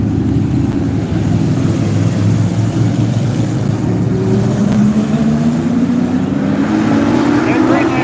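Super trucks racing on a speedway at night, engines roaring loud and continuous with rising pitch as they pass, under excited spectator talk.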